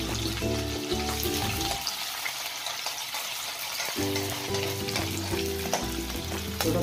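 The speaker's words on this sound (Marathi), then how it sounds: "मोहरी तडतडली की कांदा टाकते" Chopped onion and green chilli hit hot oil where mustard seeds have already crackled, giving a steady loud sizzle close up, with stirring and scraping in the pan and a brief quieter stretch midway.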